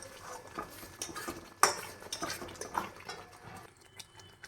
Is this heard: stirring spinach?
yes